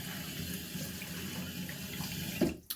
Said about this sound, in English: So I'm going to run the water to get it nice and